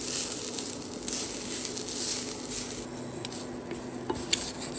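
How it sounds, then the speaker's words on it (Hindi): Half a coconut roasts in a pan with a soft, continuous sizzle and faint crackle, while a utensil gives a few light scrapes and taps against the metal. "अब नारियल, आधा नारियल भी हम लोग भून लेंगे इस तरह से"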